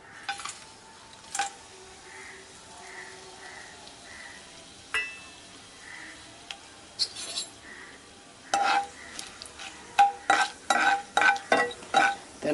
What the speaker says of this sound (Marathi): आपलं तेल गरम झालेलं आहे, त्याच्यामध्ये आपले खडे मसाले सोडून घ्यायचे आहेत